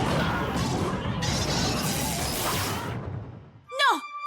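A cartoon energy shield takes shots and breaks apart with a loud, dense crashing roar lasting a few seconds, then fading, followed by brief zapping, whooshing effects near the end.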